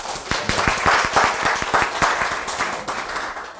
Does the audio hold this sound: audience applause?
yes